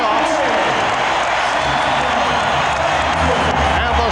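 Packed Seattle basketball arena crowd giving a standing ovation at halftime of Game 4 of the 1996 NBA Finals, Bulls against SuperSonics: a loud, continuous roar of cheering and applause, with a commentator talking over it.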